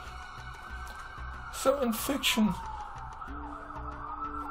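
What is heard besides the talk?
ambulance siren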